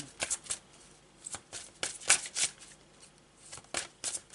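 Oracle cards being shuffled to draw an advice card, a run of crisp riffling bursts and flicks in uneven rhythm, close and fairly quiet, with no talking.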